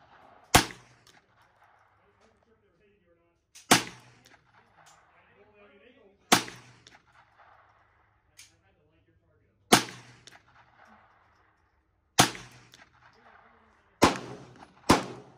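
Six sharp gunshots crack out one at a time, about two to three seconds apart, at an outdoor shooting range during test-firing of ammunition for groups. Each shot is loud and close and rings out briefly, with quiet gaps between them.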